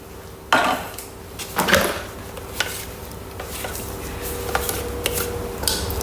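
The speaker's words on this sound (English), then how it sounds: "Scraping down the sides with the spatula." A spatula scrapes down the sides of a Thermomix mixing bowl in a home kitchen, giving a few close, irregular scrapes and knocks against a low steady background hum, with no talking.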